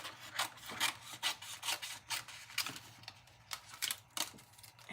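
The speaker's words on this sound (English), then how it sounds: "I'm just going to cut around this" Scissors snipping and rasping around the outline of autumn toile patterned paper for a fun fold card, a string of close, quiet cuts in uneven bursts with no talking.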